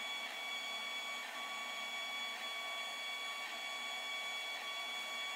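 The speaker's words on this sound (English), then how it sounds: "We're actually printing something right now" A 3D printer runs a print with a steady whir and fan hiss, holding a constant level throughout with faint periodic motor movements and no talking.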